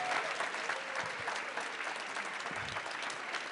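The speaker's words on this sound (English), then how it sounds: "let's give a round of applause to this amazing mariachi" An audience at a presidential campaign forum applauds a mariachi band, thick continuous clapping with a few scattered cheers, moderately loud and uninterrupted.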